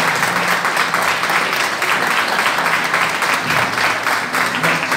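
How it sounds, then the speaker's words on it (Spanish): Audience applause at a school supplies handover event, a dense, steady wash of clapping that stays loud and sustained throughout, with some voices mixed in. "un fuerte aplauso para él"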